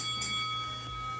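A bell rings once to signal the end of an exercise in an ab-and-glute workout session, a single bright strike whose tone hangs and slowly fades, fairly faint.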